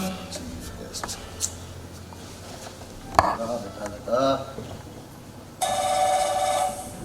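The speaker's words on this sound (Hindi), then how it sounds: "रत्ना, तुम्हारा फोन, इसे साथ ले जाया करो।" A telephone rings with a bright electronic trill that starts partway through, after some soft clattering and brief background noises, during a stage play.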